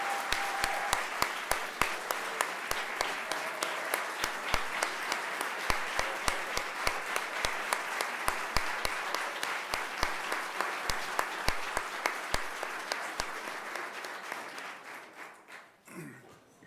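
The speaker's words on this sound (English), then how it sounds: "can we please have one last round of applause for all of our retirees?" An audience at a school board meeting claps for retiring staff, individual claps distinct within steady applause that thins out and fades near the end.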